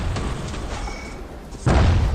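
Hand grenade exploding in the Bastion video game, a sudden low boom near the end following a quieter stretch of ambient game sound.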